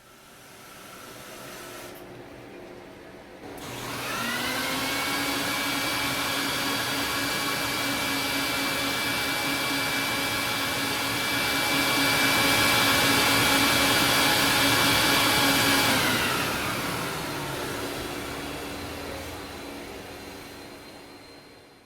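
A carpet cleaning machine, used on a rug with Dead Sea cleaner, whirs up to a loud, steady whine with a rushing suction roar, runs for a while, then winds down.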